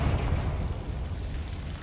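The Confringo fire spell exploding in the video game Hogwarts Legacy, heard as a sustained, roaring burst of rumbling noise that stays dense and heavy throughout, with no voices over it.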